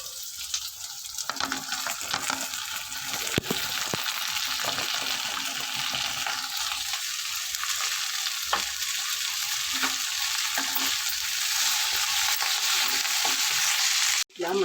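Okra pieces fry in a pan with a dense, continuous sizzle up close, broken by occasional utensil scrapes and stirring clicks, ending in a sharp knock.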